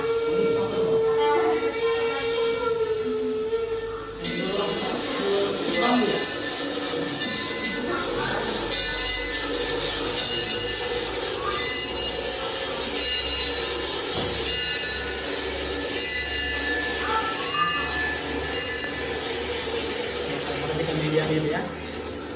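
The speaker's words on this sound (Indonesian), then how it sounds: "Kereta api." A train rumbling along its rails with steady broadband noise, a sustained tonal whine, and occasional clanks, continuous and moderately loud. Voices are faintly audible in the mix.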